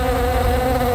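A housefly buzzes close by in a courtroom drama scene. The drone is steady and loud, alone for a second without pause or speech.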